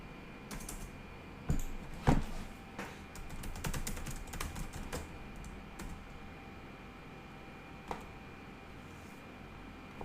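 Someone typing on a computer keyboard while working in a SQL database, with irregular clusters of clicky key taps, a few louder strikes, all close and without speech.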